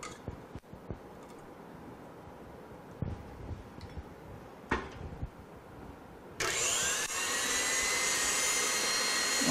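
An electric mixer beating hazelnut cake batter starts up after a few soft knocks and clatters, then runs as a loud, steady high whir to the end.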